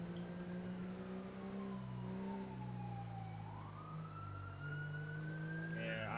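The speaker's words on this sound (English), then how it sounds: "I hear the siren of the charger." A wailing police siren from a Charger police car in GTA 5 sweeps up and down over a steady engine hum, loud and continuous throughout.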